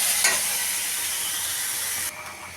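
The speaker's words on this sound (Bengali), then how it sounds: "এখন আমি করলা ভাজি করব।" Bitter gourd (karela) frying in a pan, heard as a loud, steady, close sizzle and hiss that runs without a break and drops a little near the end, with no voices over it.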